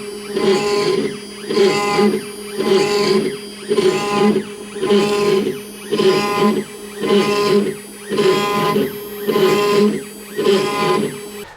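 A CNC router carves the underside of an electric violin fingerboard blank, its spindle whine holding steady while the cutting noise swells and fades in a regular rhythm of about ten passes, loud and close with no talk.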